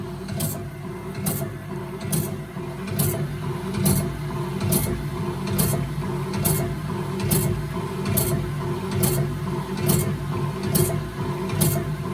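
BMS 250 saw blade sharpener running its grinding wheel through the gullet and hook angle of a blade: steady mechanical hum with a regular, evenly spaced ticking stroke about every second.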